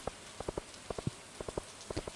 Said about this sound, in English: I think it needs to rain, so today is the perfect day